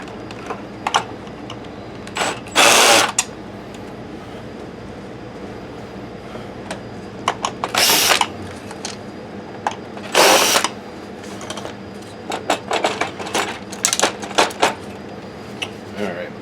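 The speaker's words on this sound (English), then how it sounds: "I'm going to see if we can just pop these screws out" Screws come out of a Sanyo DLP video projector during a teardown, with scattered clicks and a few loud short bursts of a driver or tool, over a soft steady background hum.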